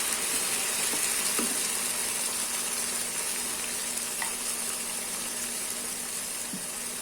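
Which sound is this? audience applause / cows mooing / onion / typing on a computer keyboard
onion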